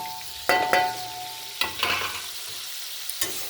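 Red chilli powder, Kashmiri chilli powder, sugar and salt fry in a pan for curd okra, a soft steady sizzle broken by a few loud scraping stirs of a spoon, heard up close with no talking.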